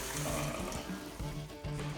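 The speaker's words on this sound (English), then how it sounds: "I'm gonna add just a little bit of agua," Water pouring into a cooking pot on a stovetop, a continuous splashing, gurgling flow at close range, steady with slight dips in level.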